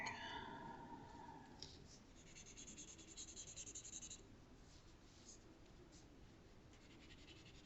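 A small blending stump rubs graphite across paper in a drawing demonstration, producing faint, close, repeated scratchy strokes in a soft rhythm, with a brief voice at the start.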